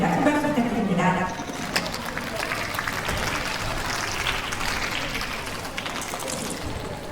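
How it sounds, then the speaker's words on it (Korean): Audience applause at a Korean elementary-school speech contest, a steady wash of clapping that fills the room throughout, with a voice briefly audible at the start before the clapping carries on alone. "큰 박수 부탁드립니다"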